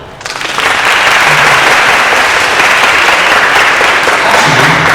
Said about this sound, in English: please give a round of applause to Luca.